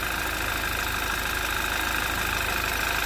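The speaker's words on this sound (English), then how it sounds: "That just seems like valve tray noise to me." A 2011 Audi TT 2.0T TFSI engine idles steadily with a ticking valve train noise, a constant close mechanical drone that does not change.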